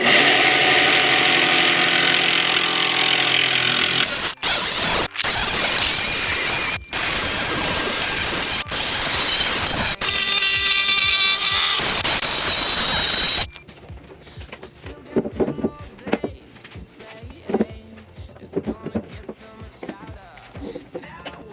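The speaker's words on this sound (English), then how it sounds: "While we're out here and we got the jigsaw out though, I'm going to take and cut out the kind of the grill opening." Jigsaw cutting a rough grill opening into a car hood: loud, continuous buzzing saw noise for the first half with short pauses between cuts, then stopping and giving way to quieter clattering and handling sounds.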